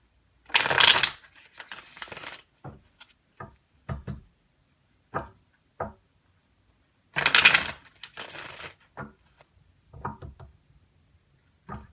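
A deck of tarot cards shuffled close by in two riffling bursts, each followed by scattered taps and soft knocks as cards are squared and laid down.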